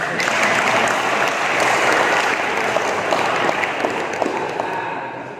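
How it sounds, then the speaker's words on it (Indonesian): An audience at a political discussion gathering breaks into loud, sustained applause, a dense crowd of clapping that swells and slowly fades toward the end. "Tepuk tangan untuk saya."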